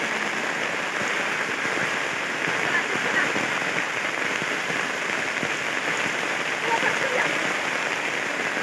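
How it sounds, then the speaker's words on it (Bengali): Heavy rain pouring down outdoors during monsoon fishing for koi, a dense steady hiss of drops on water and ground, loud and unbroken throughout, with no clear voices. "হেভি বৃষ্টি হচ্ছে,"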